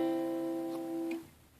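A single guitar chord, the ii chord of a ii-V-I in C, rings out clearly on its own, sustaining and then decaying over just over a second.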